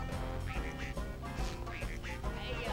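A rubber duck in the Toy Story 2 video game quacks repeatedly in a steady rhythm, honking clearly and fairly close over faint game background sounds.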